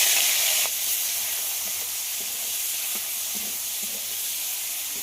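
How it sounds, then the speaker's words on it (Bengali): Shrimp coated in salt and turmeric dropping into hot oil, a loud hissing sizzle that surges at first and then settles into a steady, close frying crackle with a few light taps of a utensil. "ওই তেলের মধ্যে এখানে আমি চিংড়ি মাছ নিয়ে নিয়েছি, লবণ আর হলুদ মাখিয়ে সেটাকে ভেজে নেব।"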